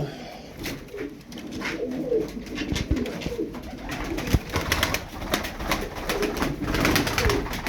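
Game pigeons cooing nearby in repeated throaty, rolling calls, with rustling and faint background noise in between.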